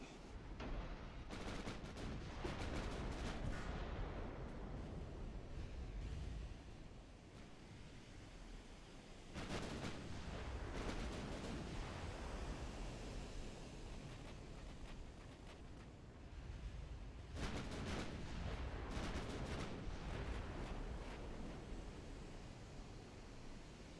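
Heavy battleship gunfire in the naval game Ultimate Admiral: Dreadnoughts, including 17-inch guns, comes as deep booming salvos that roll into long rumbling, surf-like noise, with fresh volleys recurring every several seconds.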